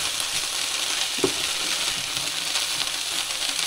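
Thawed vegetables stew in a deep frying pan with melting ice as the only liquid, giving a continuous soft sizzle and bubbling with a faint clink of utensil partway through.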